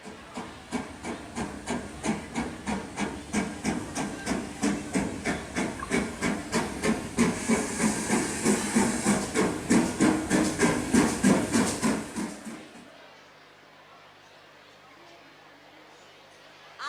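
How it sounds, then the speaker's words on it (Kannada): A steam train chuffs in a loud, steady run of rhythmic hissing puffs that builds slightly, then stops abruptly, leaving only a faint low hum. "ಒಮ್ಮೆ ಮೋಹನ್ ದಾಸರು ಡರ್ಬನ್ನಿಂದ ಪ್ರಿಟೋರಿಯಾಗೆ ರೈಲು ಪ್ರಯಾಣ ಮಾಡಬೇಕಾಗಿತ್ತು."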